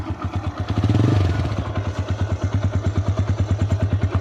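A TVS Raider 125 motorcycle engine runs close by with a rapid, even thumping idle, a short rev swelling early before it settles back into a steady, pulsing beat.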